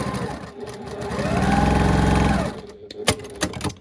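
Sewing machine running a scant quarter-inch seam on a quilt block in patterned fabric, a steady whirring burst that builds for about a second, then stops, followed by a few small clicks and handling noises.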